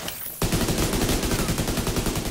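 After a short quiet moment, a grenade blast in The Division 2 erupts into a dense, loud, sustained roar of rapid pulsing gunfire-like bursts filling the rest of the clip.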